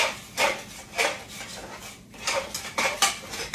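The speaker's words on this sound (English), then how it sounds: "We're going to stir that around" A utensil stirring sugar and butter in a cooking pot, scraping and clinking against the metal in uneven strokes with brief pauses, close and moderately loud.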